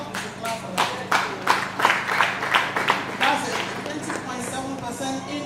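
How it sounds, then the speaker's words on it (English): A conference audience at an export event breaks into clapping, a series of distinct claps building into scattered applause that carries on for several seconds before thinning out. "I thought we should clap for that."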